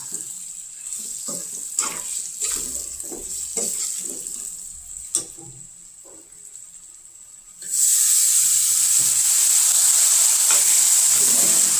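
Potatoes fry in a pan with turmeric, red chili and ground coriander for a plain spiced potato dish, giving a steady sizzle that swells into a loud, continuous hiss partway through.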